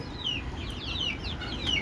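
Desi chickens raised at home cluck and peep in short, high, bright calls that repeat every few moments, close and moderately loud with no talking.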